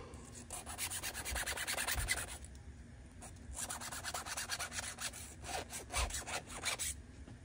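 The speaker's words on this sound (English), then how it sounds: "I'm just taking a chainsaw file and working it around." A chainsaw file rasps back and forth over a string trimmer part to smooth hammering burrs, rhythmic close scraping strokes in two bursts separated by a short pause.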